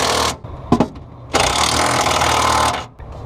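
Bolts are tightened with a power tool during a KW Variant 3 coilover install on an FR-S: loud close bursts of impact-style buzzing, a short stutter followed by a longer sustained run of over a second, separated by brief pauses.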